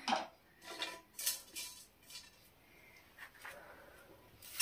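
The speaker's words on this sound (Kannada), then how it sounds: "ಈಗ ಬೇಳೆನ ತೊಳ್ಕೊತೀನಿ." Toor dal lentils being washed in a pot: soft, faint clinks and rattles come in irregular bursts, with quiet gaps between.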